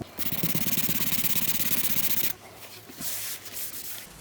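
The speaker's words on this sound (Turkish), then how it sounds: "ikinci zımpara işlemine 220 ile devam ediyoruz" Rapid back-and-forth rasping of 220-grit sandpaper on a car door's painted surface, steady and close for a couple of seconds, then stopping with faint rubbing afterward.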